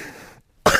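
Voice imitating the hoarse, throaty cough of Gollum from Lord of the Rings, a short rasping cough split by a brief pause, close and fairly loud.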